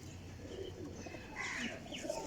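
High flyer pigeons coo softly in low murmuring calls nearby, mixed with faint chirps over a steady background hum.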